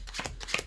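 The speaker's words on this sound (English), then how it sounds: "This is where you reverse count any number of cards that you like" Playing cards are counted off one by one and shuffled by hand, giving a quick series of soft, papery flicks and snaps, close and faint.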